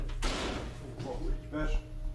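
A door swings shut inside a house in a horror scene, a sudden thudding close that rings out over low room noise, with voices in the background.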